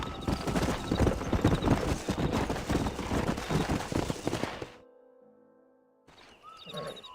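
Horses gallop hard in the Red Dead Redemption video game, dense rapid hoofbeats pounding loudly for several seconds before cutting off abruptly, followed by a quiet gap and a short return of noise.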